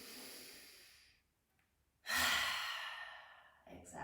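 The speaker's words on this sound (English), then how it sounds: "As you inhale, you really pick your shoulders high up, and as you exhale, drop them down." Deep breathing during a neck and shoulder release exercise: a long airy exhale fading out, a brief pause, then a strong close inhale that trails off before another breath starts, calm and unhurried with no words.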